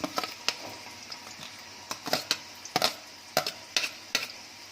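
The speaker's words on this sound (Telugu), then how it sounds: "బాగా ఇవన్నీ దోరగా వేయించుకోవాలి" Thinly chopped onion with green chillies fries in a pan for egg fried rice, a low sizzle broken by repeated scraping stirs of a spatula at an uneven rhythm, close and clear, with no talk.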